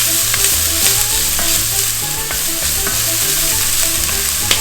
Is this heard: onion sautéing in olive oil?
yes